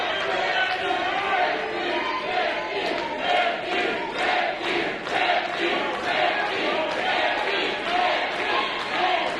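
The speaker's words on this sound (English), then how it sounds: "the fans are chanting it loud" A wrestling crowd at a Barrie Wrestling event chants loudly in a rhythmic, repeated pattern, a dense mass of voices filling the arena with steady pulses of cheering.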